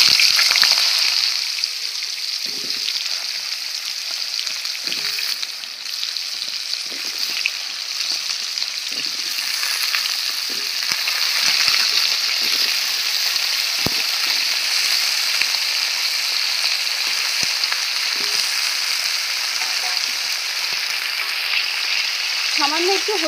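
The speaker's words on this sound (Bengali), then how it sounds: "ধুয়ে রাখা পটল আর আলু একসাথে ভেজে নেব।" Pointed gourd and potato pieces sizzle steadily in hot oil in a home kitchen, a continuous bright hiss with faint scattered clicks and utensil taps, heard alone without talk.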